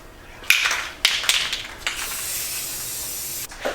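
A spray can lays coats of paint onto a go kart part, with several short hissing bursts early on, then one long continuous hiss before a brief final spray, close and loud.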